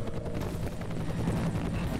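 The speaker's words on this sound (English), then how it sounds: "I hear a helicopter." Helicopter in the video game F.E.A.R., a steady low rotor drone with rumbling wind-like noise that stays constant and fairly loud throughout, with no speech over it.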